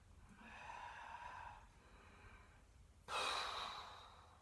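Slow, deliberate breathing in and out during an intermediate-to-advanced Pilates push-up session, a soft drawn-out breath followed by a louder, stronger exhale near the end, close and alone without talk.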